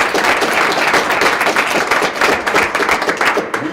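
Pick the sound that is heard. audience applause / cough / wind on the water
audience applause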